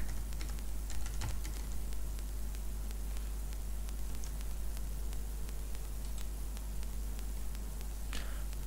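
Steady fast typing on a computer keyboard, close and clear, sharp key clicks in an irregular stream over a constant low hum and hiss.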